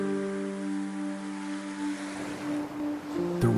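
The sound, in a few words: sea waves clashing where the Yellow Sea meets the Bohai Sea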